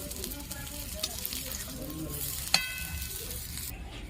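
Pieces of pointed gourd (potol) frying in oil in a pan until lightly reddened: a steady, continuous sizzle with a few small pops and a brief clink, while a voice talks softly underneath.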